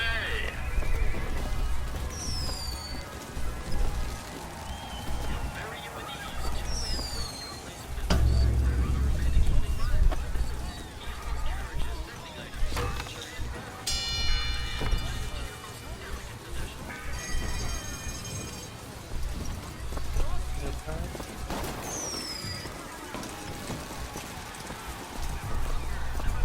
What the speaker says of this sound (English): The automatic stallion, the horse of the future, today!